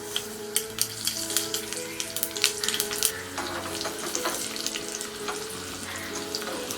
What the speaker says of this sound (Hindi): तेल गरम हो गया है। अब हम इसमें डालेंगे ये जीरा, राई, चना दाल,